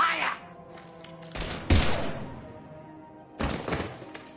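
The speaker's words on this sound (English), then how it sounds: "Now open fire!" Gunfire erupts in a Mass Effect firefight, with a few heavy, booming bursts of shots separated by pauses against a lingering game soundscape.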